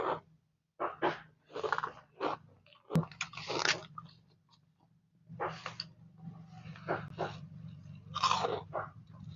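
Crisp seaweed chips crunched and chewed close to the mic, a run of sharp bites and crunches in irregular bursts followed by softer chewing, with no talk.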